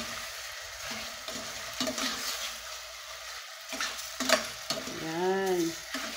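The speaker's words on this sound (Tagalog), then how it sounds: "Balikin natin, haluin natin." Food frying in a pan is stirred with a utensil, giving irregular scraping clatters over a constant close sizzle, with a brief squeaky tonal sound near the end.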